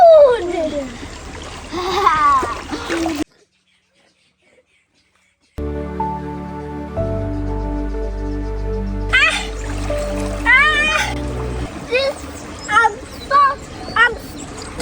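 Water splashes and burbles outdoors on a nature walk, loud and close, broken by a brief silence, with a steady musical drone in the middle and a voice talking over parts of it.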